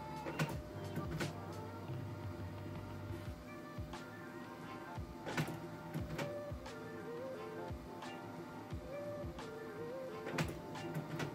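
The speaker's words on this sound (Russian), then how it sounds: "Аппарат сделает 4 попытки забора бумаги," A HIPER P-1120 printer with its paper tray emptied tries again and again to pick up a sheet, whirring motors and clicking feed mechanics repeating close up and steady, with no voices.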